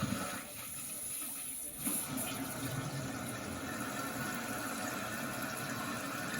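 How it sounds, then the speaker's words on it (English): A toilet tank refills after the water supply is turned back on, giving a steady, continuous rush and hiss of running water that stays fairly even throughout, with a brief dip near the start. "Now we're going to turn the water back on"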